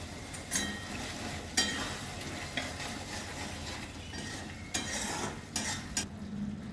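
A spoon scrapes and stirs masala okra (bhindi) with garam masala in a pan in several irregular strokes over a quiet, steady sizzle, with no talking.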